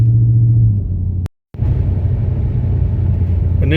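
A tuned family hauler car cruises on a highway, its steady engine rumble and road noise loud and close, broken by a brief silent gap before the drone resumes evenly.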